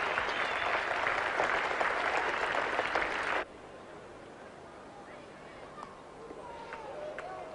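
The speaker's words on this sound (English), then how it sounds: "Australian team and the spectators applauding this little man very warmly for a most courageous" Warm applause from cricket spectators at a 1977 India versus Australia Test match, saluting a batsman's courageous innings, steady and crowd-wide for about three and a half seconds before dropping away to faint ground ambience.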